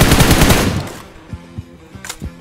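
Gunfire in a video game: a loud close burst of rapid automatic shots, then a few single distant shots spaced apart afterward.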